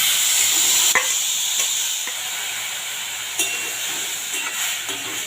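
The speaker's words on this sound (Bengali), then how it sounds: "চাপিয়ে দিয়েছি কড়াইয়ের মধ্যে এবারে মিশ্রণটা দিয়ে দিচ্ছি আমি" A steady, bright sizzle fills the clip as a mango mixture for sweet-sour nadu fries in a hot wok, with a few light scrapes and taps of stirring.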